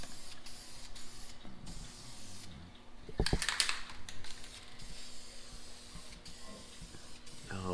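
Black spray paint hissing from a can onto a custom-fabricated front bumper splitter on a Datsun 280ZX, steady close spraying with a louder burst midway under a constant background hum.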